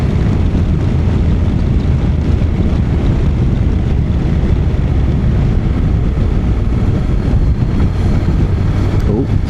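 Strong wind roars loudly and continuously over a rider on a Honda NC750X motorcycle, broadband buffeting with engine rumble underneath and no talk.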